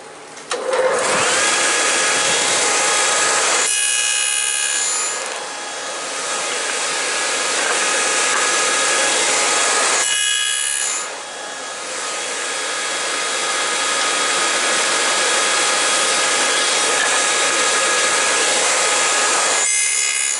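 A power saw cuts wood pieces for a plant stand in a workshop. It whines loud and steady in long passes, dropping briefly between cuts, with no talking.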